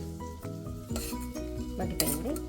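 Onion with a pinch of turmeric cooking in a pan, a continuous sizzle under repeated spoon-against-metal scraping and clinks at close range, no talking.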